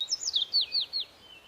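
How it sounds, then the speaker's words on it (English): Small birds singing in a forest, a quick series of bright chirps and tweets close by and clear, fading at the end. "Happy birds sing sweet songs."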